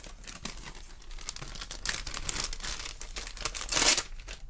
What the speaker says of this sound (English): Just grab a bit of tearing tape.